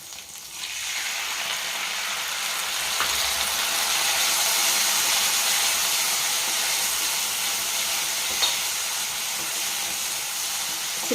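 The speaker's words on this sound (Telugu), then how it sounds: "తర్వాత ఈ టమాటా ముక్కలు సన్నగా తరిగి పెట్టుకున్న టమాటా ముక్కలు వేసుకుందాం." Chopped tomato pieces go into a pan of half-fried brinjal, setting off a steady, close broadband sizzle that holds evenly throughout with a few faint clicks, no talking.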